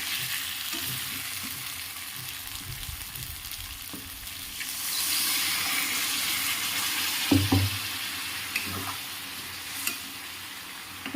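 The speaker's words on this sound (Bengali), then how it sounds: "এবার আমি জল দিয়ে দেবো এর মধ্যে" Water is poured into a pan of fried drumstick flowers, sending up a loud hissing sizzle that swells midway and settles into a steady bubbling crackle with a few clinks of a utensil.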